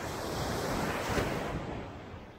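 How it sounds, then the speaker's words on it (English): Waves wash onto a beach in Aceh early on a cloudy morning, a broad, continuous surf wash with wind rushing across the microphone, swelling slightly midway and then easing. "Aceh Beach with Aceh sands and Aceh cloudy skies"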